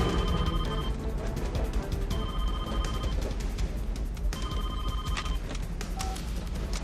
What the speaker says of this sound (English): So he's surprised when the phone rings in his stolen Humvee,